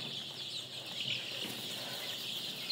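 Young Sonali chickens on a poultry farm cluck and peep softly over a constant hiss, with faint scattered calls and no talking.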